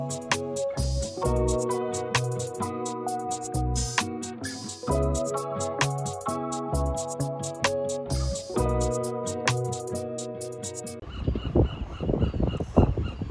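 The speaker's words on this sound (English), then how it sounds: "the squawk of the seagulls and the bark of the sea lions announce the start of a new day" Seagulls squawk and sea lions bark on the Monterey coast of California: loud, repeated honking calls that sound close and overlap each other, followed by a rougher, noisier stretch at the end.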